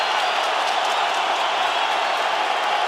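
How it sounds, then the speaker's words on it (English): A Brooklyn arena crowd at an MMA fight roars steadily, a dense wash of cheering and clapping with no breaks, loud and enveloping throughout. "Brooklyn crowd getting behind these 2 warriors."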